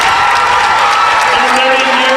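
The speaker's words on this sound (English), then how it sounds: "Trojanet fans cheering them on." Fans in a gym at a girls' high school district championship basketball game applaud and cheer loudly and steadily, a dense crowd roar with scattered whoops, while a commentator talks over it.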